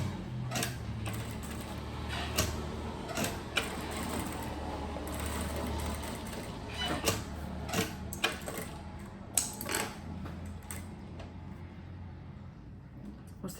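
A sewing machine stitches along the edge of a fabric pouch, its rapid mechanical whir running in bursts with brief pauses and clicks between runs, close and clear.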